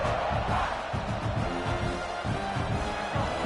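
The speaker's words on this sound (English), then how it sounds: "This crowd bringing the energy and noise early" Crowd noise at a college football stadium during an Air Force vs South Carolina game, a broad continuous roar with rumbling chants, fairly distant and steady.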